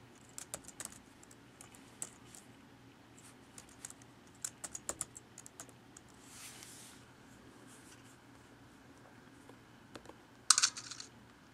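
A password is typed on an Intel-based Mac's keyboard: quiet, scattered key clicks in short bursts separated by pauses, ending in a brisk final flurry.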